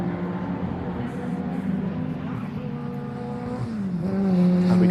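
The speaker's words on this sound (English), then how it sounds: "The car sounds like it might be misfiring a touch." A 750 Motor Club race car engine on a circuit, running rough as though misfiring, with smoke pouring from it; a steady harmonic engine note holds throughout and rises and grows louder near the end.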